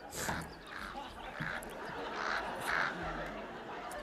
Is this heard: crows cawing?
yes